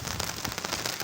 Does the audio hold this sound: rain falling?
yes